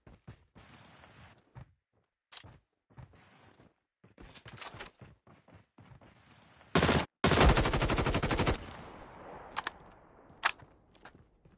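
Gunfire in Call of Duty: Mobile battle royale, with scattered single shots and footstep-like taps early on, then a loud sustained automatic burst near the end followed by a few isolated sharp shots.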